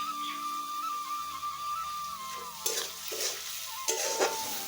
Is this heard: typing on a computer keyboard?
no